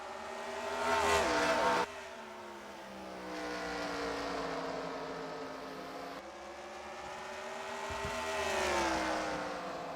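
Race cars lap Bristol in a racing video game, their engines droning in long rising and falling sweeps as cars pass, with one sharp cut to a new pitch partway through, at moderate level and with no talk.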